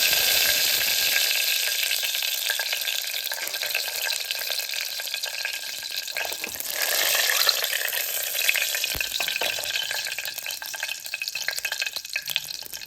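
Chickpeas frying in hot oil for kadalai curry, a continuous bright sizzle that swells midway, with occasional scraping of a stirring spoon in the pan and no talk.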